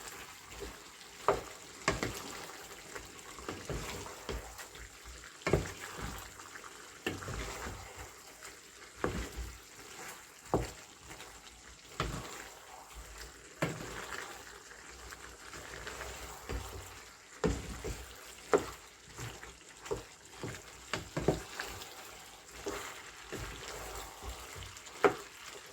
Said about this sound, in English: I'll give it a good stir now.